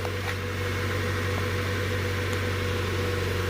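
A 1999 Mazda Miata engine, just revived after a fuel pump fix, idles with a steady, even drone close by and no voices over it.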